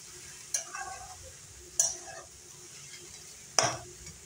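Vegetables being sautéed and stirred in a pan for a quick home-style vegetable dish, with three sharp scraping stir strokes over a faint, steady sizzle, close and fairly quiet.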